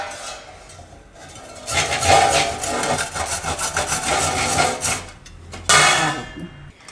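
Orange carrots being grated by hand, a close, rhythmic rasping scrape that builds after a quiet start, keeps up for a few seconds and ends with one last louder burst.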